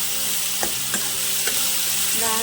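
Prawns fry on low heat in a pan, giving a steady close sizzle broken by a few soft stirring scrapes and taps, with no talking.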